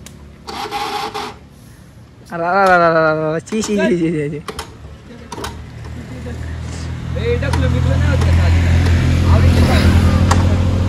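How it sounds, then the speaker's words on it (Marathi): A car engine starts and settles into a steady, loud low rumble that continues to the end, after several seconds of voices and scattered rattling. "गाडी चालू कर पहिली."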